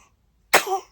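A single sharp sneeze bursts out close and fairly loud after near silence, fading quickly within half a second.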